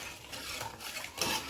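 Scraping and rubbing of a spoon through gojju avalakki, Karnataka-style tangy beaten rice with salt and jaggery, a few soft close strokes with a brighter scrape near the end and no voices.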